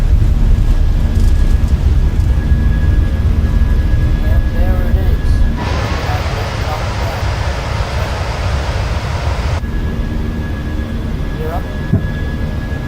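Airliner on its takeoff roll in Microsoft Flight Simulator 2020, a steady loud jet engine roar with a brighter surge of broadband rush in the middle, then settling back to a continuous drone.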